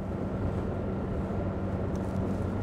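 A Suzuki DF100B outboard motor drives a Focchi 620 boat at 3000 rpm, a steady, loud engine drone mixed with rushing water and wind, continuous and unbroken throughout with no talking.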